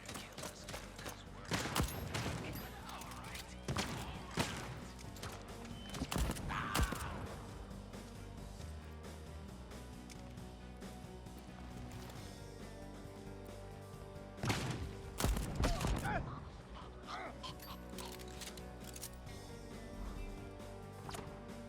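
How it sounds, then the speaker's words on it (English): Enemy gunfire in the Deathloop video game: bursts of rapid shots crack out in clusters, loud and close, over a dense game soundtrack and ambience. "Who's shooting at me?"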